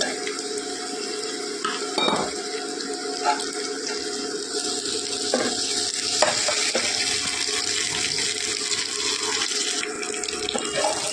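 Chopped tomatoes added to browned onions in a hot pan, sizzling and frying steadily while being stirred, with occasional scrapes and clinks of the spoon against the pan, close and continuous.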